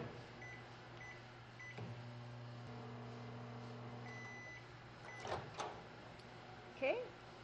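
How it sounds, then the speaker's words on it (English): A microwave oven running while warming caramel, a steady low electrical hum and whir filling the kitchen, followed by a door click and a beep, with a quiet voice briefly over it. "So we're going to put our caramel in the microwave for 30 seconds just to warm it up"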